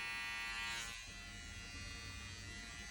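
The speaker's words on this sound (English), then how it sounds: "Don't bring that trimmer off their head." Electric hair trimmer buzzing continuously and close while cutting a skin fade, a steady drone with a slight dip in pitch about a second in as it moves across the head.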